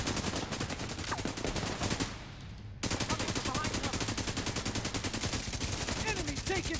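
Rapid automatic gunfire in the video game Tom Clancy's The Division 2, continuous loud bursts with a brief lull near the middle before the shooting resumes at full intensity.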